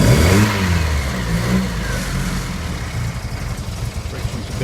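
An engine on a test panel rumbles and revs after a start, a loud close mechanical drone that settles into a steady, slightly pulsing run, with a voice speaking briefly over it.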